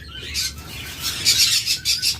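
Caged lovebirds, budgerigars and cockatiels at a bird farm give bursts of bright, rapid chirps and tweets, several overlapping calls close by and fairly loud, with no voices.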